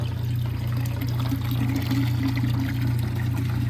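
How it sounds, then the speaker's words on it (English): A camper water pump powered from a portable power bank hums steadily while water pours and trickles out close by, loud and continuous with no talking. "first time running the water pump off of the power bank"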